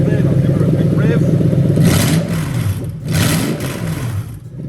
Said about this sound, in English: I'll give her a big rev.